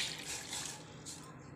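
Half a cup of water poured into a pan with half a lemon for sugar syrup makes a soft, steady splashing trickle at moderate distance, fairly quiet and continuous.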